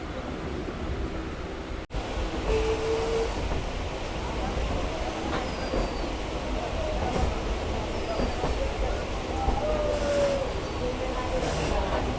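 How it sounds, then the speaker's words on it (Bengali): A local train rolls into Bangaon Junction with a steady rumble of wheels and carriage noise, a sharp clunk early on and faint high squeals from the rails, heard from inside the moving coach. "আমাদের ট্রেনটা এখন ঢুকছে হচ্ছে বনগাঁ জংশন স্টেশনের দিকে"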